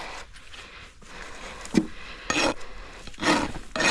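A farrier's rasp, aggressive side, files back the toe of a horse's hoof during quarter-crack repair: a few short, gritty scraping strokes, close and moderately loud, separated by quieter rubbing.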